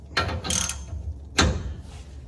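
A 1-inch socket wrench tightening a bolt on the front suspension of a 2006 Silverado Z71 4x4 gives short ratcheting bursts, two close together and a third a moment later, close and fairly loud.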